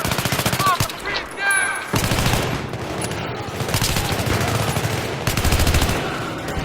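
Shotgun blasts in Battlefield 3 multiplayer crack out loud and close in a rapid series of heavy shots, one after another, with someone talking excitedly over the gunfire.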